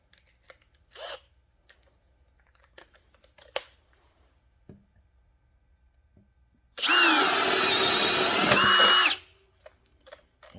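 A Ridgid drill spins up loud and steady for about two seconds of continuous whining drilling, then stops, with scattered faint clicks and handling noises before and after.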